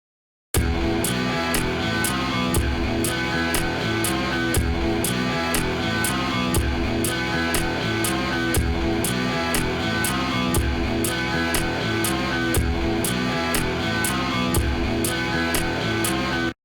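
A programmed hip hop beat with a steady kick pattern and sharp clap snares landing on the third and seventh beats, looping evenly and loud throughout with no voices.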